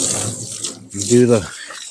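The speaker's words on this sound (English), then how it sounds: "just soak it down, get everything all wet" Water from a garden hose with the spray nozzle removed gushes over an outdoor air conditioning unit, a close splashing rush that swells and fades while someone talks over it.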